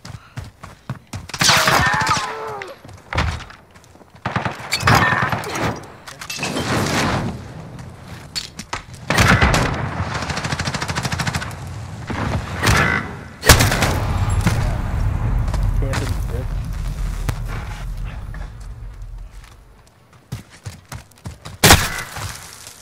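Gunfire in the video game Call of Duty Modern Warfare Warzone: a dense run of loud, sharp shots and bursts, some in rapid clusters, with booming impacts scattered across the stretch.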